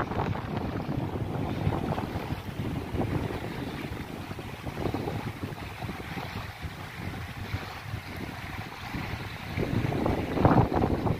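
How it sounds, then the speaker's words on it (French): Seaside wind buffets the microphone in steady low gusts, with rough sea and surf rumbling beneath, swelling louder near the end; no talking. "Alors excusez-moi, il y a du vent."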